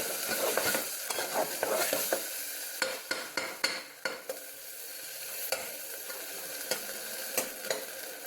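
Spicy chicken fry is stirred in a sizzling pan, with a spoon scraping and clacking against the metal in quick irregular strokes over a steady frying hiss.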